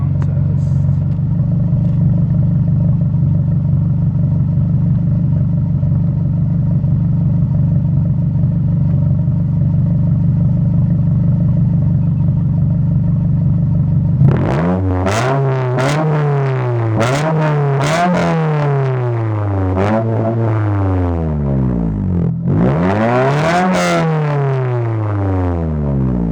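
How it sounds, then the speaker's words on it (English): A 2009 Scion tC with a cheap, rusty aftermarket catback exhaust idles with a steady, close drone, then barks through several sharp revs that rise and fall in quick succession. "Here's a little sound test."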